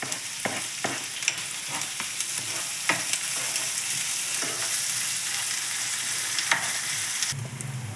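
Onion and tomato fry in a pan for a mushroom palya while a spoon stirs them, giving a steady close sizzle broken by light scraping stir strokes, with no talking.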